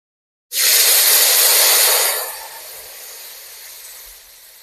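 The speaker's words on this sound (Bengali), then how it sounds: "পাঁচফোড়নটা গরম হয়ে যাচ্ছে" Panch phoron spices hit hot oil with a sudden loud hiss that holds for about a second and a half, then eases into a quieter, steady sizzle.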